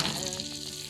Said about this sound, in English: we will now be making our brown butter for our frosting